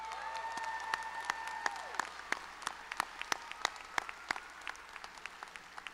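Audience applause fills a graduation ceremony hall, a steady dense wash of many hands clapping with sharper individual claps standing out near the front. It stays loud and sustained before thinning slightly toward the end.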